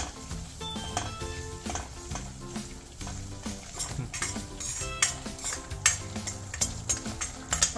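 Semolina roasting in ghee over a low flame for a sheera prasad, stirred with a spoon that scrapes and clinks against the pan under a steady bed of background music.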